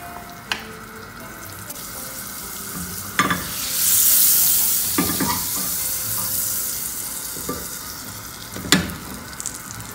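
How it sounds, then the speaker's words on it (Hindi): Butter sizzles in a pan on a stovetop, a steady frying hiss that swells in the middle, broken by a few sharp clinks and knocks of utensils, with no talking. "अब हम पैन को चूल्हे पर रखते हैं और इसके अंदर मक्खन डालते हैं।"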